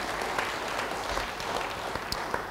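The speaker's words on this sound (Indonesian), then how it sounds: "Yang siap beri tepuk tangan bagi dia." Church congregation applauding during a sermon, a steady wash of clapping from a sizable crowd filling the whole span at moderate level, with no talk over it.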